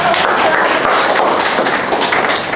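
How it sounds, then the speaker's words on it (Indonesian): A classroom of students applauds: brisk, dense clapping from many hands, close and even in level, with faint voices mixed in. "sekali lagi kita berikan aplaus"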